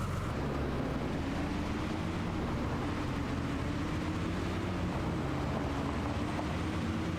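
A new tractor engine idles and runs steadily in Farming Simulator 25, a continuous low drone that stays even and fairly close throughout with no talk over it.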